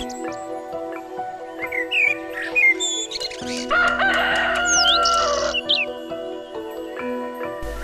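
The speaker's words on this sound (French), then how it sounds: "Ce brave coq nous rappellera de temps à autre que nous sommes à la campagne." Rooster crowing in the Balinese countryside beside a bamboo-and-palm villa, several loud drawn-out crows mixed with chirping birds and other fowl calls around it, no talk.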